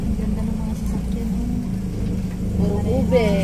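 Cars in a women's motorcade roll past with a steady low engine rumble, close and continuous, while people talk and call out over the traffic.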